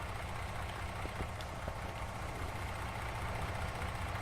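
Idling V8 diesel engine of a MAN TGX 640 truck in Farming Simulator 19, a steady low rumble held at an even level throughout, with no talking.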